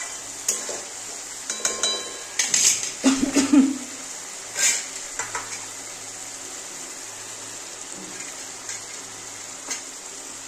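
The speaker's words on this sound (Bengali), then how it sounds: "মশলা কষানো হয়ে গেছে, এখন আমি চিকেনগুলো দিয়ে দেবো।" Chicken pieces dropped into sautéed spices in a hot pan, with a short cluster of clattering stirring strokes and a steady sizzling hiss underneath that continues alone afterward.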